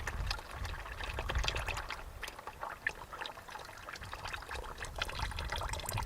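Old oil mixed with a little water and thick sludge draining out of a Farmall tractor into a pan, a steady close liquid pour and trickle running continuously with no speech.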